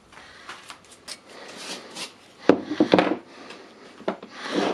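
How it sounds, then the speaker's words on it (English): Dirt is brushed and scraped off the controller of a Makita DHP484 drill, heard as soft, close rubbing and scratching strokes with a few sharper scrapes in the middle, no talking. "Now we need to clean the dirt from the controller."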